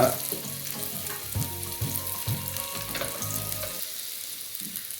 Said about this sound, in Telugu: ఇక్కడ ఖర్జూరం కూడా ఫ్రై చేస్తున్నాము